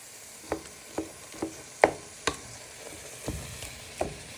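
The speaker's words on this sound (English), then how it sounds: "you just want to stir in them noodles into your tomatoes and prawns" Noodles, tomatoes and prawns are stirred together in a hot pan. A spoon knocks and scrapes the pan roughly every half second over a low sizzle, close up and with no voices.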